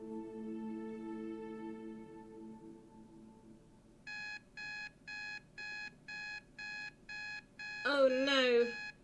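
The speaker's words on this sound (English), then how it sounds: "Oh no, I forgot to turn off the alarm clock." An alarm clock rings in a radio mystery drama, a sustained tone followed by a run of regular, evenly spaced beeps, then a brief burst of louder ringing at the end.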